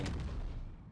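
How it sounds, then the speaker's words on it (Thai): A big bomb is thrown and explodes in the Roblox game Anime Defenders, one short burst with a heavy low boom and crackle that quickly fades, faint overall. "ปาระเบิดลูกใหญ่"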